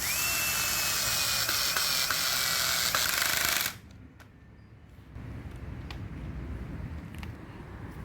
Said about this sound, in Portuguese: O bit aqui é um PH2 e agora é só parafusar todos eles.